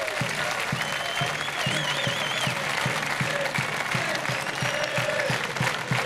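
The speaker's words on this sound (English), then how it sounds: "Give him a round of applause." Steady applause from an audience at a gathering of former Coventry City football players, sustained and even throughout with a faint whistle or cheer rising briefly above the clapping.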